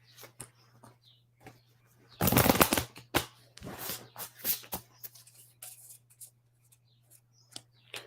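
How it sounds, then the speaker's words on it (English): A deck of cards shuffled during a live online community chat: two quick riffling bursts, the first loud and dense, the second lighter and more scattered, amid small handling taps and a steady low hum. "Let me shuffle this deck for you."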